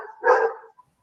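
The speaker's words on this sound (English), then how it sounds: "I'm sorry about my dog." One loud dog bark, a single full woof close by in a room, briefly overlapping a faint background voice before fading to silence.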